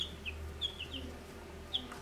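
Two-week-old New Hampshire chicks give a few thin, high peeps, some close and some softer, over a low, steady background hum.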